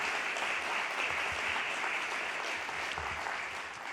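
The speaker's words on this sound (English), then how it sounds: "Let's give another round of applause to Martha Santana Chin" Dense, sustained applause from a crowd at a president's breakfast on health disparities fills the room evenly for several seconds.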